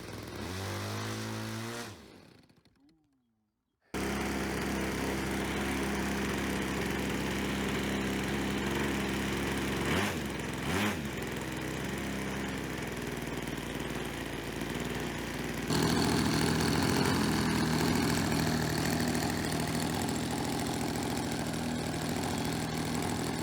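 A model aircraft engine runs steadily after being started, a buzzing drone that holds even, briefly dips in pitch twice, then grows slightly louder and rougher near the end, with no talk.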